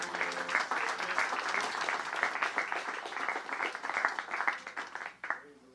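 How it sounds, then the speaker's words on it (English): A church congregation claps in praise to the Lord, a steady wash of many hands clapping together for several seconds before it tapers off abruptly. "Give the Lord a clap of praise"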